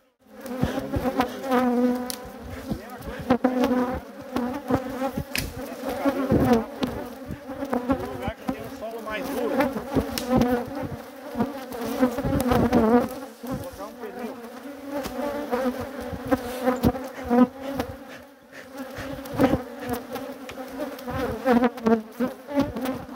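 A honeybee swarm buzzes steadily and densely at an apiary around an overturned hive box, a continuous loud drone of many wings close by, with no talk over it.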